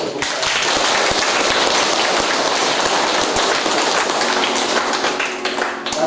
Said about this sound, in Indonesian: Kita sambut keluarga baru gereja ini dengan tepuk tangan.